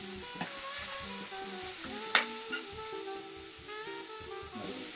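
Food sears in a hot pan with a constant frying sizzle, and a brief clatter sounds as the pieces are flipped, close up with no talking.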